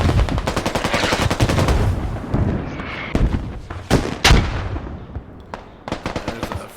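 Rapid gunfire and loud explosive blasts in the military shooter game Squad, with bursts of automatic fire followed by several heavy booming impacts, close and loud, including what may be a frag rocket detonation.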